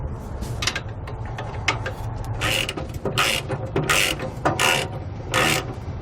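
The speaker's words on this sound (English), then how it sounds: "So we're going to take a box wrench to keep that head of the bolt from spinning." A wrench works the bolt on Kwikee 25 Series RV electric steps on a 2008 Fleetwood, making repeated bursts of ratcheting clicks in a quick uneven rhythm, close and fairly loud with no talk.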